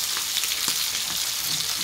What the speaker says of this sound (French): j'ai terminé la coloration de ma côte de bœuf